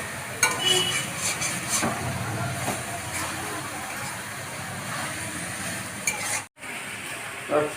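Chopped bottle gourd with diced tomato is stirred and fried in a pan, a steady sizzling hiss with scraping spoon strokes, close up and continuous, with a brief break near the end.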